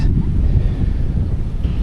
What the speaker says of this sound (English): We have a little bit of windy wind we're gonna have to work with.